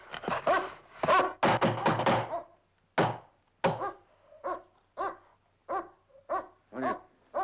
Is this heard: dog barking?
yes